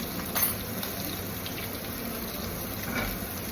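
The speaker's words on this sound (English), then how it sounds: "Listen to that sizzle. That's what you want to hear." Scallops searing in a hot pan give a steady, close sizzle, a dense continuous crackling hiss with no break and no voices.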